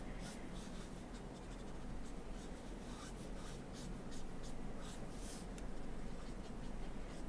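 Copic marker nib rubbing and scratching across paper in steady, continuous strokes, close and fairly quiet, with no talking.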